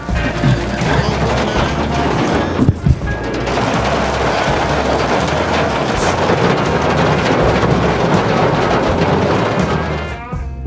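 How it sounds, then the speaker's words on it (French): Heavy thunderstorm rain pours down steadily in a dense roar in Vernon, France, with wind buffeting the microphone and a sharp crack partway through. "c'est de la grosse pluie là"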